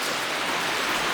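Hard rain falling steadily at a trail shelter on the Appalachian Trail in Maine, a dense, even hiss that fills the whole moment without a break.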